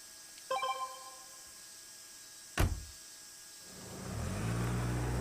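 In the game World End Syndrome, a large car door shuts with a couple of sharp thumps, then an engine rises into a low steady drone as the vehicle pulls away.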